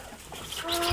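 Chickens cluck inside a winter coop freshly laid with clean bedding, a brief, close burst of clucking with no talking.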